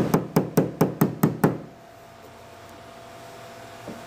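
A series of seven sharp, evenly spaced taps of a body hammer on a dented crown of a car door near the handle, close and loud, then quiet room tone.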